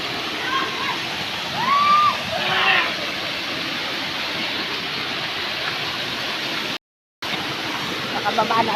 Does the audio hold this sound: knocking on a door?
no